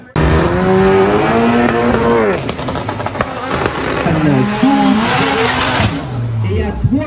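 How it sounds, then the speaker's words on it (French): A Golf 5 and an Audi sedan launch side by side at a standing-start 400 m drag race in Guadeloupe, engines revving hard and shifting with rising and falling tones, tire squeal and loud crowd and announcer voices over them. "Golf 5 dans le couloir de droite. Avec une Audi berline."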